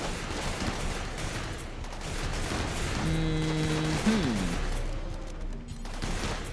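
Cannon fire in the video game Rimworld, a dense continuous rattle of rapid shots and crashes under a brief rising electronic tone, loud and unbroken throughout.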